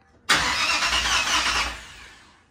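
A GM Performance crate 350 V8 fires up abruptly and roars into a loud, steady high idle close by, fading slightly toward the end, with no talking.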